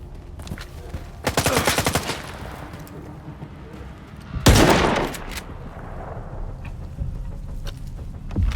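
Bursts of automatic gunfire in a S.T.A.L.K.E.R. 2 firefight, two loud rapid volleys separated by quieter stretches, with scattered single shots and echoing reports in between.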